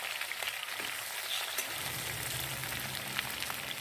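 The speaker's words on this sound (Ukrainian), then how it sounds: "Перші декілька хвилин, поки смажиться картопля" Steady, crackling sizzle of potatoes frying in hot oil in an uncovered cauldron over an outdoor grill, close and continuous, with no talking.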